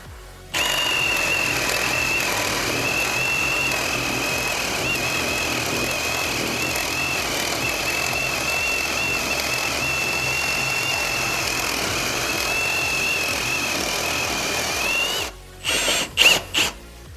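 A Milwaukee M18 FPD2 cordless hammer drill whines steadily at its second speed, loud and close for about fifteen seconds, then stops and gives a few short bursts.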